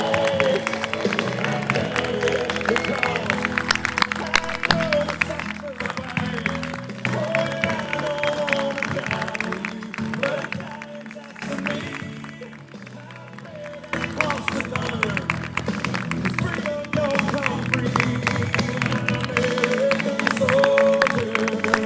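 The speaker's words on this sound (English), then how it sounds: "accept this warm round of applause and recognition" Large audience applauding at a Romeoville High School class of 2026 commencement ceremony, a sustained wash of clapping and crowd noise with cheering swelling and dipping across the stretch.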